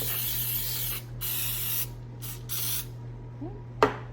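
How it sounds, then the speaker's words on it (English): PAM cooking spray is sprayed generously over a baking pan in several close hissing bursts of about a second each, with short gaps between them, ending with a small clatter. "I'm just gonna generously coat my pan with this PAM."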